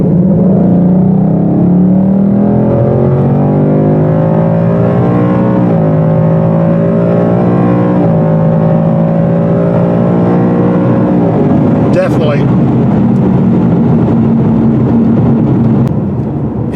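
A 2018 Ford Mustang GT with a 10-speed automatic accelerates hard, its loud, close engine note climbing in pitch through several upshifts with brief dips between gears, then settling into a steady drone; no talking.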